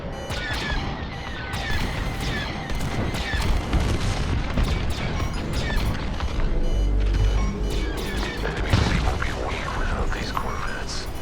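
Explosions and crashing blasts from a space battle in Star Wars Squadrons, a dense, loud barrage of booms and smashes with a deep low rumble swelling near the middle, while voices talk over the chaos.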